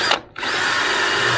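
A power drill drives screws straight into wooden battening during a narrowboat fit-out, a loud continuous whirring that dips briefly between screws and then runs steadily again, close up with no talk.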